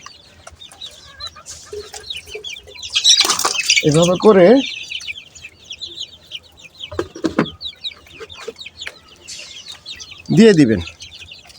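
Chickens cluck nearby in short irregular bursts, with one louder squawking outburst, while a person talks between the calls.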